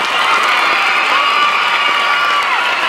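A school audience cheers and applauds its teachers at a roof inauguration, with loud crowd shouting, children's whoops and clapping blended into one steady roar.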